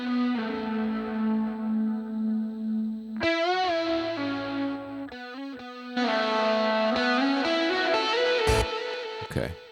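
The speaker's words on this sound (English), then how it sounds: "the lead was doubled with this effect, which I don't love" A lead vocal in a song mix carries a doubling effect that gives it a thick, chorused, slightly distorted sheen, singing sustained notes over the instrumental backing.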